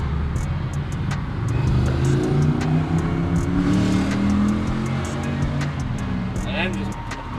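A 7-liter 426 Hemi, a full motor build running 19 pounds of boost on water methanol, revs steadily with a loud continuous engine roar and rising and falling pitch, heard up close with people talking alongside.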